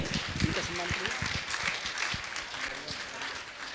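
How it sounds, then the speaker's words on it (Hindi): Audience applause at a Jain religious gathering honouring a guest, a dense wash of clapping at moderate level with voices mixed in underneath. "और आप जोरदार ताली बजाकर इनका सम्मान करें।"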